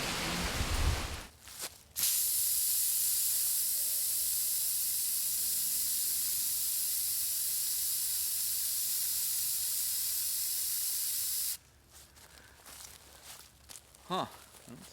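Aerosol insecticide sprayed over the underground entrances of a yellow jacket nest, one long continuous loud hiss lasting about ten seconds, with brief rustling and footsteps before and after.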